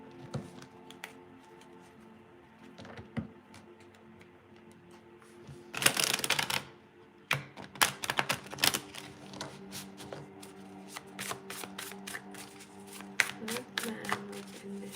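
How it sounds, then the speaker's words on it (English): Tarot cards are riffled and shuffled close by in quick bursts, with a louder flurry in the middle and a steady patter of crisp flicks afterward. "Let's give it a good shuffle."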